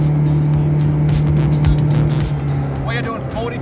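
A fishing boat outboard motor runs at high revs on a river in Bristol Bay, Alaska, making a steady, loud drone with splashing and wind over it. People talk throughout.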